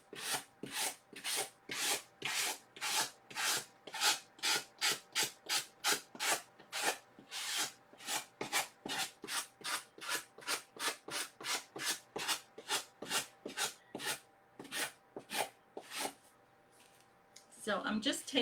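Repeated rasping strokes of a sanding block smoothing excess paper off the edges of a paper-covered heart decoration, about forty quick, rhythmic rubs, close and distinct, ending in a short scuffle.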